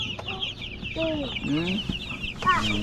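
Several chickens cluck close by inside a coop, with short bursty calls and a few rising squawks overlapping in an irregular chatter.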